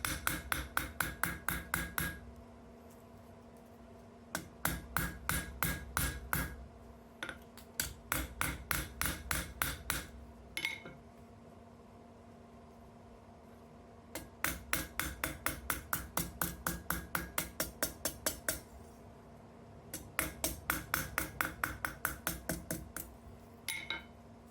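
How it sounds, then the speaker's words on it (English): A hammer strikes a hot chisel against a steel plate on an anvil while cutting forged steel, ringing metallic blows in fast rhythmic bursts of about ten, separated by short pauses, over a steady low hum. "Now I'm using a hot chisel to cut out the mouth."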